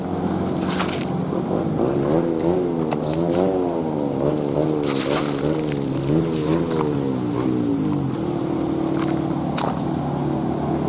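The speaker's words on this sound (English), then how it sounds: "These idiots all got to have loud mufflers here" A car with a loud, throaty muffler rumbles and revs nearby, its engine pitch rising and falling repeatedly against steady background noise.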